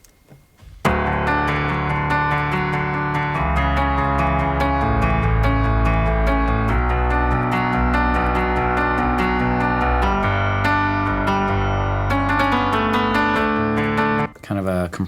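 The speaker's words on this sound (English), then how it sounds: "so we've got our main piano sound" Compressed grand piano in a Logic Pro ballad session, playing sustained chords and melody notes at an even, dense level for about thirteen seconds before stopping, with no voice over it.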